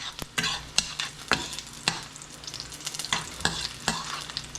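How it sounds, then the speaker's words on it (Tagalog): Salted shrimp (alamang) sautéing in a hot pan, with a steady sizzle broken by sharp, repeated scrapes and clacks of a spatula stirring, close and fairly loud. "Gisa-gisa."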